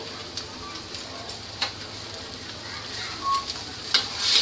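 Spices with turmeric, salt and crushed kasuri methi roasting in a pan for Punjabi chole, a steady soft sizzle with occasional stirring scrapes and clicks, close and moderately quiet, no talking.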